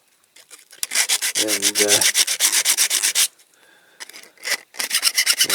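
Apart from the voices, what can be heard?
hand file filing Dinky toy vehicle axle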